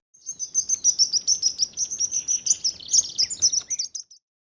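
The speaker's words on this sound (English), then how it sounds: "sparrow" A sparrow chirps in a rapid, continuous run of bright, high tweets, close and clear against a quiet background, stopping abruptly just before the end.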